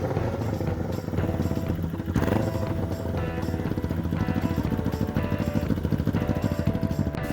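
A go-kart powered by a Kawasaki Ninja 250 engine drives past with a steady, buzzing motorcycle-like drone and mechanical clatter, loud and continuous throughout, with no voices.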